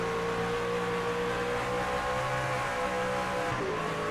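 Racing truck engine in iRacing's AREA Truck Series at Mosport, a steady loud drone with layered harmonic whine, pitch holding then shifting near the end as revs climb over a crest; no talk.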